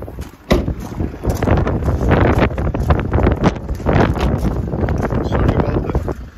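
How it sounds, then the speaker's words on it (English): Strong outdoor wind buffets the microphone with a continuous, loud rumbling roar and gusty flutter that lasts the whole stretch, covering everything else. "it's very hard to video this morning, the wind's really bad"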